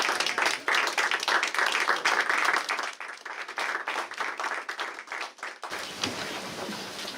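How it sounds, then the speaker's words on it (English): A standing audience gives a loud, dense round of applause for a speaker at a talk on hemp growing in Maine, thinning to scattered claps and then settling into a lighter patter. "I'd like to have you all stand and give Gill a big round of applause here"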